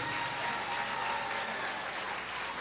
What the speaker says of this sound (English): Let's give all of our scholars a big round of applause.